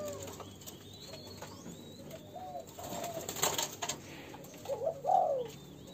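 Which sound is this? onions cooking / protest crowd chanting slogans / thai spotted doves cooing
thai spotted doves cooing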